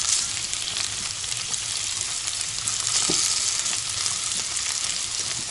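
Food fries in a pan, a loud steady close sizzle with fine crackling throughout and no talk.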